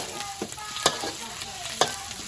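Nam prik pla kra pong, chili paste with canned fish, stir-fried in a pan: a steady close sizzle broken by a few sharp spatula scrapes against the metal.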